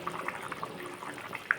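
Spinach paste with potatoes simmers in a pan, a soft, steady bubbling with faint pops and a small spit near the end.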